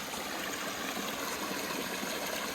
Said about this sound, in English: with the sound of a little waterfall